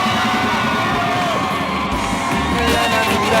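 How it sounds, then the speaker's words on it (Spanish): A crowd cheers, whoops and yells continuously, loud and close, with shouting voices mixed into the din throughout. "¡Un aplauso!"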